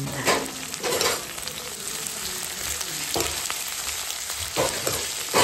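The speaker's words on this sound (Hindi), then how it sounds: "you can see the wages सिजलन" Steady, crackling sizzle of vegetables frying in a hot wok, with occasional louder bursts as they're stirred, close up and continuous.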